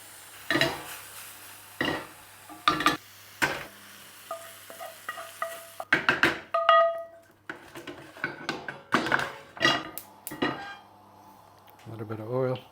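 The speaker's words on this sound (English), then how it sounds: "Just stir that in through to cook the garlic out" Garlic is stirred in a pan with a utensil, producing repeated scraping and clattering strokes over a background sizzle, with a few metallic clinks and a brief voice in between.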